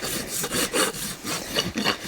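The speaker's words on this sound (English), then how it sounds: "we're going to take our dole rasp again and just kind of lightly go over top" A dole rasp scrapes lightly over the clinched nails on a draft horse's hoof, making a steady series of rough, rhythmic strokes close by with no talking.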